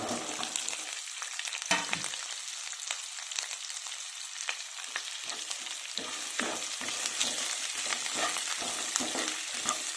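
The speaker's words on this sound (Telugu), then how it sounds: "ఇవి కూడా బాగా ఫ్రై అవ్వాలి పచ్చివాసన పోయేంత వరకు ఫ్రై చేసుకోవాలి" Green chilies and onions frying in oil for soya chunks curry, a constant close sizzle with frequent scraping, clattering stirring strokes that grow busier toward the end.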